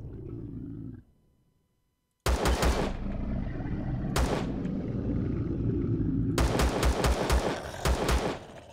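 Gunfire in the video game Empyrion Galactic Survival comes as loud, rapid bursts of automatic shots along with single cracks, over a roaring ambient drone. The bursts follow a brief quiet gap near the start.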